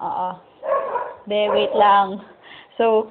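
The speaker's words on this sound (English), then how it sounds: "again, excuse my dog." A pet dog barks and yips indoors in short bursts. A person speaks over the barking, and at the end a clear, near bark stands alone.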